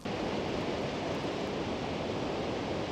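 A waterfall in Iceland pours down with a constant, loud, broadband roar of rushing water and no voices over it.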